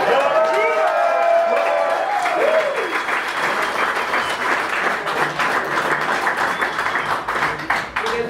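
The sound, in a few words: audience applause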